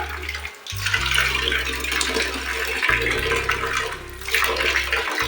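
Tap water runs steadily into a basin while a child's face is washed, a loud continuous splashing flow with brief interruptions and shifts as hands move through the stream.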